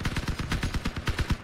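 Rapid bursts of automatic gunfire and cannon fire in the Crossout vehicle combat game, a dense rhythmic stream of sharp shots fired at close range, loud and continuous with no voices.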